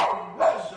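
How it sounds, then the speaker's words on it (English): A small fluffy white dog barks at visitors in a house, giving a short sharp yap or two that sound close and fairly loud. "A fluffy white handful of a dog greets visitors at the Farron's house"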